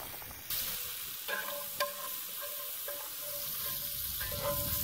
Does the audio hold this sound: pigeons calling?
no